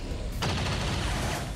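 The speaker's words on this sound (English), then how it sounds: "Incoming fire!" A burst of video-game gunfire from XCOM 2 sets off a dense, sustained crackle that fills the short moment and stays loud throughout.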